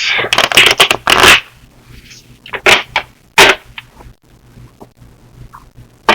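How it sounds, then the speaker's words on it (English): Tarot cards being shuffled close up in quick riffling bursts, several rapid flutters followed by softer shuffles and quiet gaps. "I'm going to shuffle the cards first."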